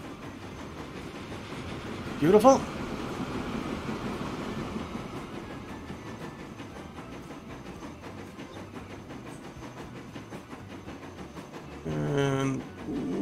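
A train rolls past in the railway game Transport Fever 2, a steady rumbling wash of carriage noise with a brief louder burst early and a rising clatter near the end, a single word spoken over it.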